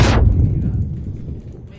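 A grenade explosion in a shooter video game: one sharp, loud blast at the start, followed by a low rumbling tail that slowly fades.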